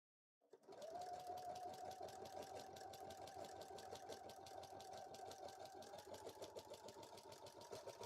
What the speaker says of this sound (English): One of the clips was getting stuck underneath the sewing machine.